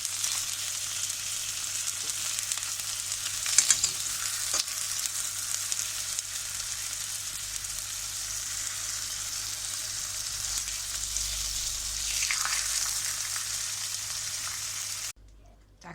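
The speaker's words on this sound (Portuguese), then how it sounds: "Vamos fritar." Tofu frying in a pan with onion, a continuous close hiss and sizzle with a few faint clinks and stirring bumps, steady throughout until it cuts off abruptly near the end.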